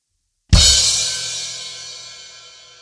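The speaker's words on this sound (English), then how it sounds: "we have a crash symbol" A single crash cymbal hit on a drum kit, bright and loud, ringing out and slowly decaying after a sharp attack, alone without talk.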